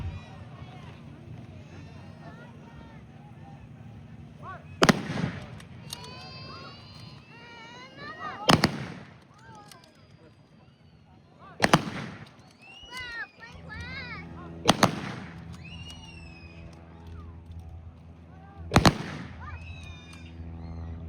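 A military firearm is fired on a museum range at a veterans' event, giving five loud, sharp gunshots spaced several seconds apart, with people talking between the shots.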